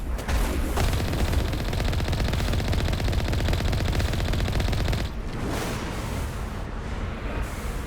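Sustained, loud automatic gunfire from a firefight with snipers in the video game Mass Effect, rattling without a break and dipping slightly in intensity partway through.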